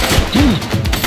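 Gunfire during a shootout in the police game The Precinct: a few sharp shots and thuds heard close and loud over a short, busy burst of action noise.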